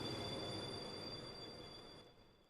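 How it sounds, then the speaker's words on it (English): A train brakes to a stop, a steady broadband rumble with a sustained high metallic squeal that gradually fades as it slows, heard alone without voices. "The braking noise"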